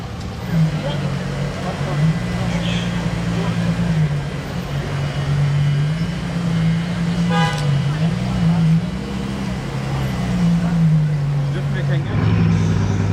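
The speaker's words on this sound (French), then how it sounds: "j'ai entendu le démarrage derrière moi qui m'a fait peur de la Chiron W16" Bugatti Chiron with a W16 engine starting up on Place du Casino in Monaco: a loud, steady engine drone whose pitch wavers as it settles and rises near the end, under crowd chatter and talk.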